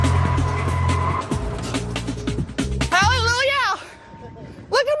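A car brakes hard on a driving course, tires squealing in a loud, wavering screech for nearly a second after rumbling engine and road noise, with voices talking close by.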